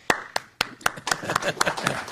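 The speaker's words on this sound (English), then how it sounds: "I'll lead the applause on that one" A few people clapping at a news conference on a State of Hawaii bond sale: sharp separate claps at first, quickly thickening into brief close-up applause.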